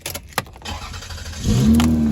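A quiet executive sedan's engine starting after a few light clicks and taps, then settling into a smooth, steady low idle close by, with no talking.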